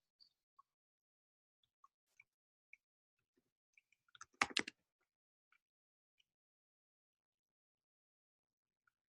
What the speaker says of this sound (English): And you all get to see my bad typing.